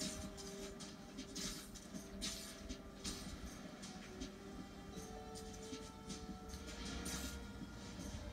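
A train rumbles along in the video game Spider-Man: Miles Morales with a steady rolling roar and faint metallic hum, fairly distant and continuous, with no voices.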